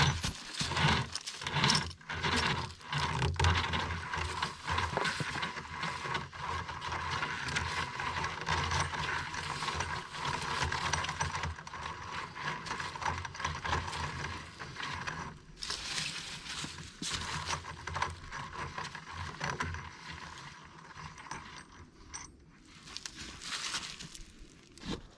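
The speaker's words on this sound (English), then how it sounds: "and then start pulling your winch line out" Synthetic rope pulls off a free-spooling Hisun Axis winch drum in a long ratcheting, clicking rattle, close and fairly loud. It pauses briefly now and then, with scraping handling noise between pulls.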